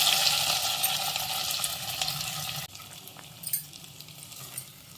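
Cashews and raisins fry in hot ghee and are stirred, a steady close sizzle that drops suddenly partway through, leaving quieter bubbling with a few scraping stirs.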